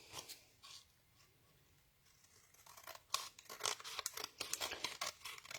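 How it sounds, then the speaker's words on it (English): Scissors snip through cardstock while a card is trimmed to a straight edge: a few soft early cuts, then a rapid run of crisp, close snips and paper rustles, with no talking. "I use the edge of my cardstock here as my guide for my scissors, so I get a nice straight cut"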